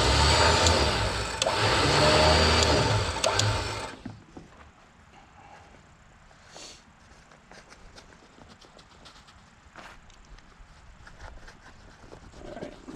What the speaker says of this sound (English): So I'm gonna manually crank it in.